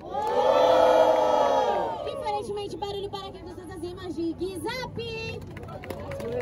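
A crowd at a Batalha da Leste rap battle cheers and shouts loudly together, then keeps up a rowdy din under an MC's amplified voice.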